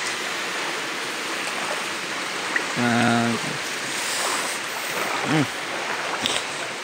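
Floodwater rushes through a flooded factory, a loud steady broadband roar of flowing water that fills the whole scene, with a brief tonal honk and a short voice sound partway through.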